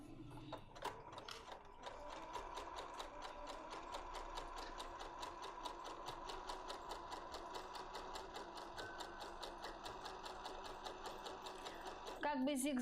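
A household sewing machine zigzag-stitches knit fabric at a 2 mm stitch length and 1.5 mm width, a quiet, rapid, even mechanical clatter running steadily for about ten seconds, with a voice speaking briefly near the start.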